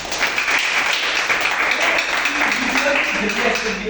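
A crowd claps at a DXN presentation, with a brief burst of steady, moderately loud applause while a voice talks over it toward the end.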